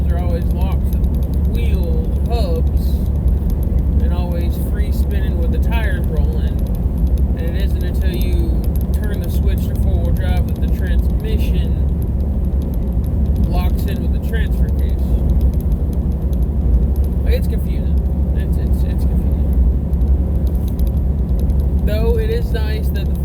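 A car driving along a road with a steady low rumble of tires rolling and road noise underneath, while a person talks over it throughout.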